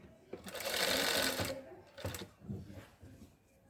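A sewing machine stitches fabric for a flower design, a close mechanical whirring run followed by shorter bursts of stitching, with faint talk underneath.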